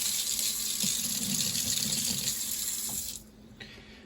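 Water runs steadily from a kitchen tap while a pot is rinsed during home canning of vegetable beef soup, a loud continuous splashing gush that cuts off near the end, leaving a quieter room.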